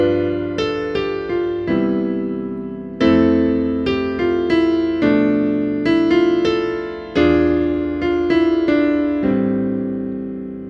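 Solo piano played the way a beginner student would, with plain, blocky chords struck in separate attacks every second or two, each one ringing and decaying before the next, heard alone with no talking.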